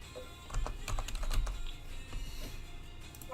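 Rapid, uneven keystrokes clack loudly and close up on a mechanical keyboard fitted with Cherry switches, with no voices over the steady typing.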